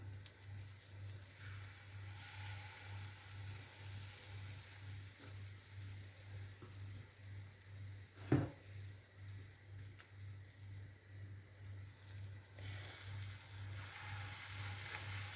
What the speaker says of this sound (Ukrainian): І ложкою викладаю на розігріту пательню.